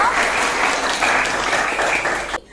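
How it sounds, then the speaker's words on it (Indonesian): Classroom of students clapping for a classmate, a brisk, loud burst of many hands that holds steady and then cuts off abruptly near the end. "tepuk tangan dulu buat Livi dong"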